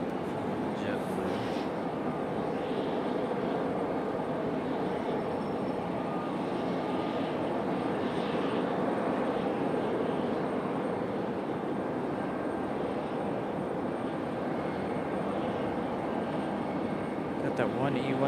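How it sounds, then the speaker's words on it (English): A JetBlue jet airliner taxis at Raleigh-Durham airport, giving a steady distant engine roar that holds for the whole stretch, with faint background noise. "Got that one E175 pulling into the gate, and the other one pushing back."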